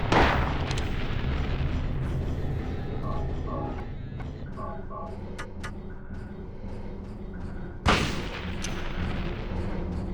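Gunfire in Silent Hill, with a sharp shot at the start and another loud blast near the end, separated by quieter game ambience and faint tonal beeps.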